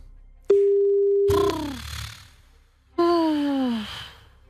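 Telephone ringback tones on a call placed to a radio show guest: a steady held tone followed by a falling electronic tone, then another descending tone, each clear and prominent with no talking over them.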